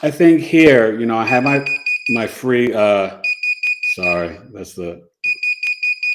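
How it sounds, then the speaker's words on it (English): A desk alarm beeps in rapid repeated pulses, partly under a person talking, then rings alone in a steady run of short beeps near the end. "alarm for the desk"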